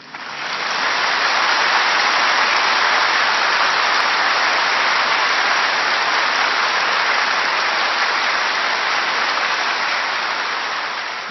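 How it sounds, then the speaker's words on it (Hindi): An audience claps steadily and loudly in a sustained, even burst of applause lasting several seconds, with no voices over it. "ताली बजाओ।"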